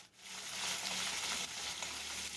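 Potatoes fry in a pan at a steady broadband sizzle that holds close and even through the short stretch, with faint stirring scrapes and no talk.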